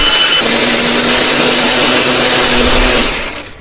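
An electric blender grinds a spice paste of coriander, candlenut, garlic and shallot with added water or oil, a loud steady whirring roar that holds for about three seconds and then winds down.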